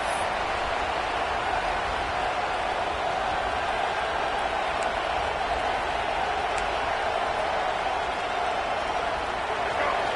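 Continuous roar of a stadium crowd cheering in a college football video game, a broad, unbroken wash of noise at steady loudness throughout.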